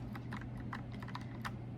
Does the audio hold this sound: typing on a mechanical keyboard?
yes